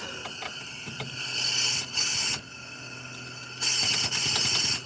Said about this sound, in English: I need a new impact socket, if you can tell. Listen to that.